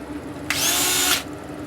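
A power drill bores a hole into the top of a diesel tank, a single close, loud whirring burst lasting under a second before stopping, with no talk.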